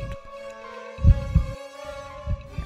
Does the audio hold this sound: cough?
no